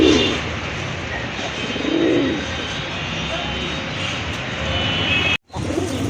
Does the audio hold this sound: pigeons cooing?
yes